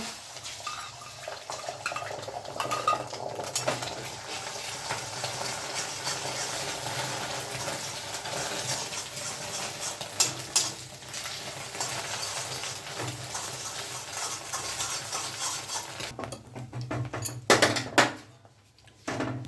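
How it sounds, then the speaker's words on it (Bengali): An egg cracked into a hot kadai sizzles softly and steadily while it is stirred and scrambled. Faint scraping and clinks come through, then a brief lull near the end. "এই ডিমটা ফাটিয়ে নেব।"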